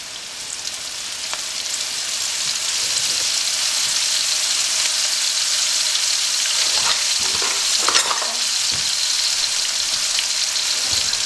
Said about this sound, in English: I'll take the onions from the flour into the hot oil and then right out to dry.